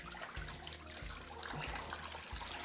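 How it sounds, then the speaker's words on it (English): Tap water runs steadily over an eco-printed fabric bundle bound with string during a first rinse, a continuous close splashing trickle with a low gurgle and no voices. "So initially when I turn the tap on, this is going to look really dirty,"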